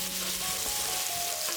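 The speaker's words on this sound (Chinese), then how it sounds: "继续翻炒。" Pork stir-fries in a hot pan with cooking wine, salt and Korean chili paste, giving off a loud, dense, continuous sizzle with no pauses and no voices.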